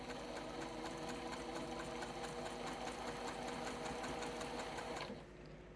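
A sewing machine stitches quilt block pieces in a rapid, even, close mechanical whir that runs steadily for about five seconds before stopping abruptly.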